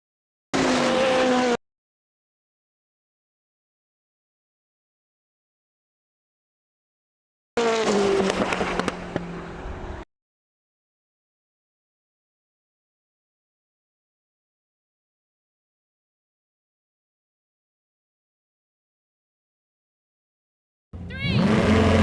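Bugatti Chiron Super Sport and Koenigsegg Jesko in a drag race, heard as three short, loud bursts of engine roar and acceleration separated by long stretches of silence.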